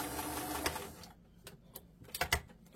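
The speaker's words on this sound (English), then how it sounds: "You don't want to sew all the way to the end, just to where that seam allowance ends." A sewing machine stitching a seam, its motor running in a short steady whir, then stopping and followed by a few faint clicks and taps close by.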